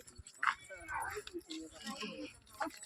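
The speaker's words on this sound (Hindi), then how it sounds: "ये सब कुत्ते ये भाभी के पाले हुए हैं ये।" Dogs in a hill village yip and whimper close by, in short bursts mixed with low woofs, while people talk over them throughout.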